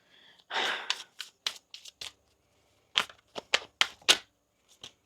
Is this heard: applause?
no